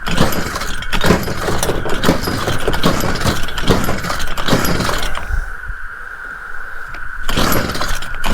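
A Stihl weed trimmer with a throttle fault idles close by, its small two-stroke engine buzzing steadily and then briefly dipping quieter before picking back up, with a few light rattles along the way.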